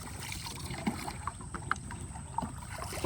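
A small rowing boat moving on water in the Sundarbans during a fishing trip, with soft lapping and trickling water, light splashes and faint knocks against a constant outdoor background hiss.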